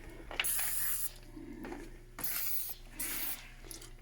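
Several short bursts of aerosol spray hiss in quick succession onto hot metal splines of a dyno coupler, each lasting under a second, close and fairly loud, with faint clicks between.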